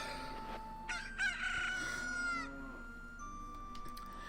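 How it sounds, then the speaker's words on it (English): A rooster crows and clucks in The Legend of Zelda: Ocarina of Time, with calls rising over a steady game background at moderate loudness and no talking. "we'll present the chicken to her."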